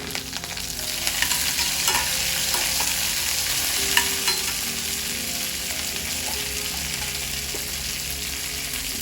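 Radish pieces sauté in a pan with tamarind, coriander and curry leaves for chutney, giving a steady close sizzle with occasional scrapes of stirring and no voices.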